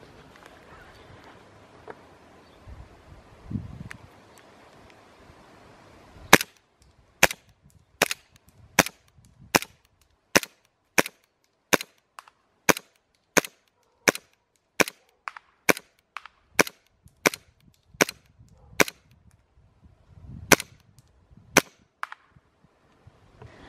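ARMY R27 1911-A1 gas airsoft pistol fired at a target 20 metres away: about twenty sharp, loud cracks in a steady rhythm, roughly one every second, with quiet handling noises before and between the shots.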